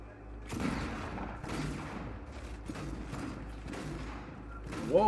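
Heavy shotgun blasts in Fortnite boom out in several loud, irregular shots with short gaps between them, mixed with game noise and a player's talk.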